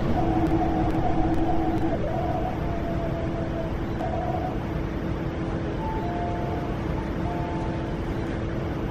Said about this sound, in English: A 9-car train to Hong Kong is arriving.